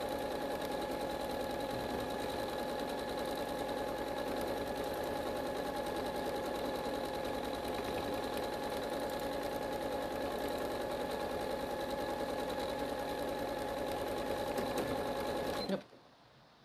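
Sewing machine stitching outer-edge trapunto quilting: a steady, fast mechanical whirring and rattling hum that runs continuously and close by, then stops abruptly near the end.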